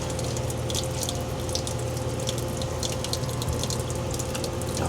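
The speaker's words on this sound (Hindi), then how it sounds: "गर्म पानी बहुत स्लो आ रहा है" Hot water runs slowly from a tap as a coffee cup is washed, a steady close trickle with scattered splashes and light knocks throughout.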